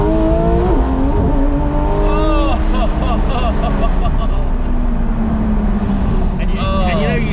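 A Porsche 911 GT3 RS Weissach's engine revs hard, rising and falling in pitch through several surges as the car pulls away, loud and close with a sharp high-revving whine.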